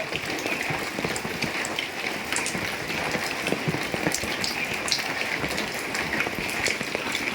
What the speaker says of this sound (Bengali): আর দেখুন বন্ধুরা কেমন বৃষ্টি পড়ছে